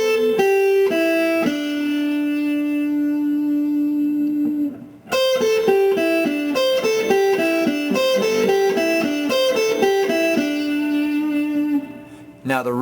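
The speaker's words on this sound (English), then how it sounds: "what we're going to learn to do is to take 5 notes and loop them like this" A clean electric guitar plays a short repeating five-note pentatonic riff of picked notes, a held note first, then a steady looping pattern after a brief pause.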